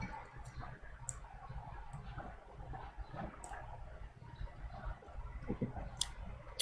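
Mouse clicks on a computer while working in the ArcGIS toolbox: scattered soft clicks and ticks, a few sharper single ones, close and fairly faint over low room hum.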